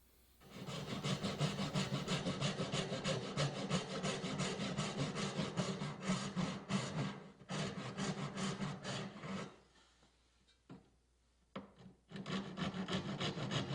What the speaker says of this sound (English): Now I'm removing waste with the back saw